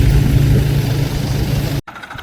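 A tractor engine runs loudly and close, a steady low rumble that cuts off abruptly near the end, leaving quieter ambient noise.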